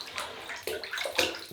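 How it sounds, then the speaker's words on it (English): Hot tap water runs and splashes steadily while a shaving brush is wetted for a shave, a close, continuous watery rush that swells in short surges. "So we'll wet the brush in this nice hot"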